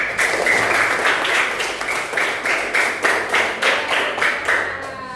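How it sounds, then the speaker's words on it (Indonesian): Pupils in a classroom clap together in loud, steady applause that swells into a rhythmic beat of synchronized claps near the end, with no talking over it. "Tepuk tangan untuk Lubna sama Ramdhani."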